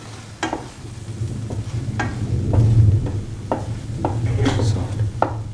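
Fennel powder and spices sauté in a hot pan, with a soft steady sizzle under scattered scraping stirs and clinks of a spoon against the pan.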